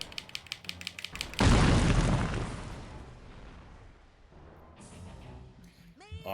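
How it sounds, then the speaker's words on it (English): A loud explosion in the video game Psychonauts, a sudden broadband boom that decays over several seconds, much louder than the surrounding game sounds, followed by quieter game effects and a brief whooshing chirp. "Oddly loud explosion compared to everything else."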